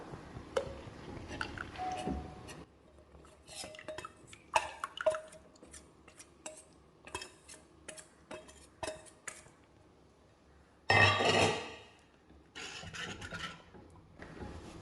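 Ragi flour being stirred into hot water in a cooking pot, heard as scattered soft scrapes, squishes and clinks of a utensil against the pot with a louder rasping burst partway through, close and alone without talk.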